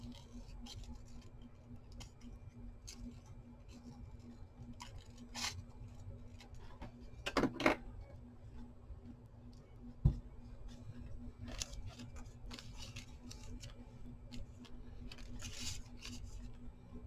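Scissors cutting paper to make a flower, a series of faint, sparse snips and clicks spread over a quiet indoor background with a low steady hum.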